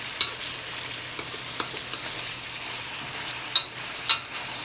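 Beef and bell peppers frying in a pan make a steady close sizzle, broken by a few sharp clinks and stirring scrapes.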